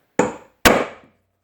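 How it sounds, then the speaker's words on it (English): Two sharp, ringing metal hammer blows drive an aluminum cylinder into a Makita HR2470 rotary hammer's tool holder, close and loud, each strike decaying quickly with a short pause between them. "Of course I will hit it with a hammer"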